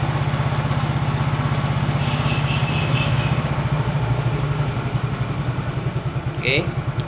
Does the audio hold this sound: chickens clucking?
no